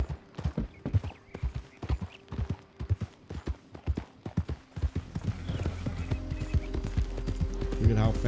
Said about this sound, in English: Look at how fast this horse goes